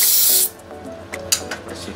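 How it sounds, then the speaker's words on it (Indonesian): A spray cleaner is sprayed onto a freshly soldered DTG printer circuit board in one loud, close half-second hiss, followed by quieter handling clicks and taps. "kita semprot lagi, bersih"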